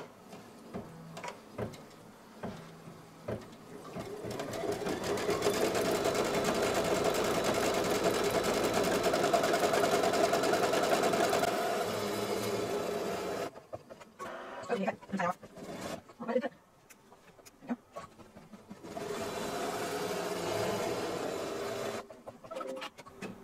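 A quilting machine stitches a background design in black thread on a candy corn pinwheel quilt, a sustained mechanical whir with a short stop and then a second run, with brief talk in the gaps.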